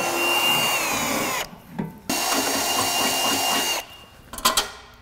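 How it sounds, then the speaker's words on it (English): Power drill boring holes into a transmission cooler, two loud sustained bursts of whirring with a short pause between, followed by brief clattering handling noises. "drill some holes"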